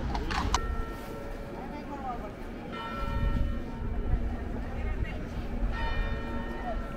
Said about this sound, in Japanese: 鐘の音も鳴っていて